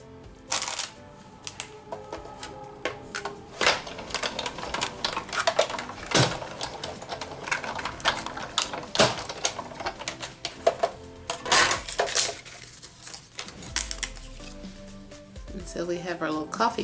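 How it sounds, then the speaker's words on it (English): A paper bookmark is die cut, giving a long run of dense mechanical clicking, rattling and ratcheting with irregular sharp clacks, close and fairly loud, ending in a low rumble. "And then I'm just going to die cut it out."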